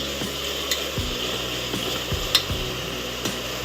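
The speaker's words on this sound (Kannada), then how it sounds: "ಟೊಮೊಟೊ ಚೆನ್ನಾಗಿ ಎಣ್ಣೆಯಲ್ಲಿ ಚೆನ್ನಾಗಿ ಬೇಯ್ತಾ ಇರ್ತದೆ ಸಾಫ್ಟ್ ಆಗುತ್ತೆ" Tomatoes softening in hot oil while cooking for egg biryani, a low steady sizzle with several soft spoon stirs and scrapes against the pan at uneven intervals, no voices.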